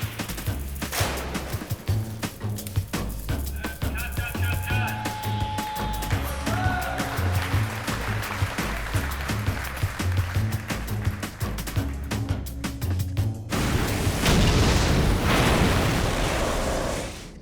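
A 5,100-pound model crane tower is smashed apart on a film effects set, a long continuous roar of crashing, cracking and tearing debris that swells louder near the end, with no talk.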